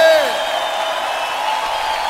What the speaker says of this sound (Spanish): Un grito de júbilo.